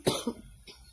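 A single harsh cough bursts out close by, followed by a softer second rasp a moment later.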